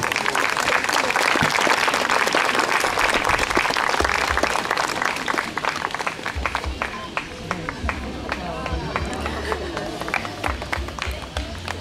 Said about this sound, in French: On peut applaudir plus chaleureusement Nathalie qui fait du super travail.